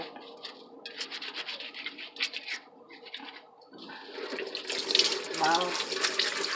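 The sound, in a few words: rinsing cucumber under running tap water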